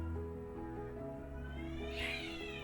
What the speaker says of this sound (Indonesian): Aduh maaf ada kucing ya.